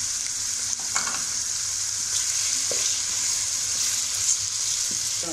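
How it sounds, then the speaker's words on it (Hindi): Chicken pieces hit hot oil in a kadhai with garlic and ginger while biryani is being made, giving a loud, steady sizzle and crackle throughout, with a few faint stirring clinks and no talking. "अब हम इसमें चिकन डाल देंगे।"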